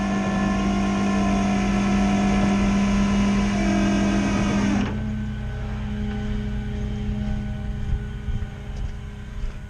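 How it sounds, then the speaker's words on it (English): A tow truck winch hauls in its cable, giving a loud, steady mechanical whine and engine drone that suddenly drops to a lower, rougher hum partway through. "Now we're gonna start pulling this winch cable."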